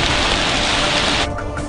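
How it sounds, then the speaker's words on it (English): Steady, dense rain hisses loudly in a video game, then thins out abruptly just before the end. "I gotta get out of this rain"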